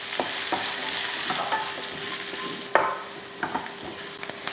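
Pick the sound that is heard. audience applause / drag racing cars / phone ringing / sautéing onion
sautéing onion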